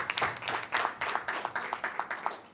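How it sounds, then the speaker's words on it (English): A seated audience at a talk on government and digitisation in Malawi claps along together, a brief burst of moderately loud, fairly rhythmic hand clapping heard alone. "Can we clap hands?"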